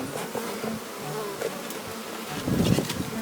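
Honey bees swarm and buzz steadily as a wild hive is opened up in rural Jamaica, the dense insect drone rising and getting louder near the end.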